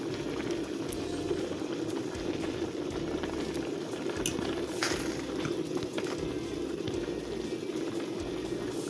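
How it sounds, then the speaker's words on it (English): Steady bubbling of water at a rolling boil in a pot with tempeh in it, close and continuous, with an occasional faint clink. "This way that you're boiling them on all sides real well."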